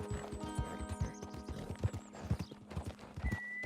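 Steady clip-clop of horse hooves at a trot in Red Dead Redemption 2, with a high whinny sliding down in pitch early on and a brief tone near the end.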